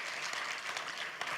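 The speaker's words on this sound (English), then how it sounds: "Let's give a big round of applause to these wonderful people." Audience applause at a 20th anniversary conference for the RRI, a dense, steady wash of many hands clapping at moderate level, continuous throughout with no voices standing out.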